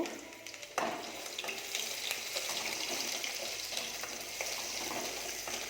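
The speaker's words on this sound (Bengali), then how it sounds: "তেল গরম হয়ে গেছে এবারে আমি পেঁয়াজ পেঁয়াজ কুচি দিচ্ছি" After a quiet moment, hot oil suddenly bursts into a loud sizzle as chopped onions hit the pan, then keeps frying steadily with occasional stirring clinks.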